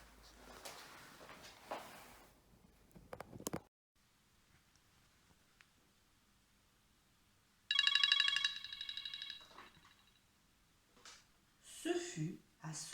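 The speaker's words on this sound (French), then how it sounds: "la directrice reçut sur son portable magique un message effrayant" A mobile phone's message notification ringtone chimes once in a short burst of bright repeating tones, set apart from the surrounding narration of a children's tale, with a voice talking before and after.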